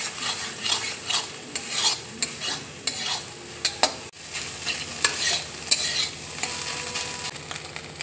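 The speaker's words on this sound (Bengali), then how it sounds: "এবার দেখো ডিমটা আমি পেঁয়াজের মধ্যে দেখো দিয়ে দিচ্ছি।" Egg frying in a pan with onion while being stirred, for a Bengali egg chire breakfast: steady close sizzle with repeated scraping stir strokes, one brief pause midway.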